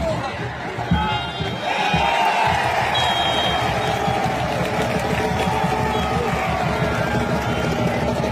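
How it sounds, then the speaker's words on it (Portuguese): Parnahyba football fans celebrating a win in the stadium, a loud continuous roar of crowd cheering, chanting and clapping that holds steady throughout. "a torcida do Tubarão já fazia festa"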